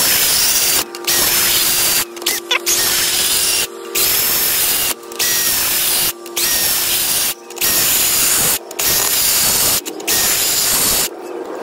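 Cordless screwdriver drives 100 mm screws in a run of about nine loud, close whirring bursts of a second or so each, separated by short silent pauses.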